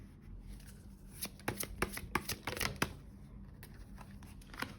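Tarot cards are shuffled by hand during a reading, with a quick run of crisp riffling and flicking bursts in the middle, close and fairly quiet.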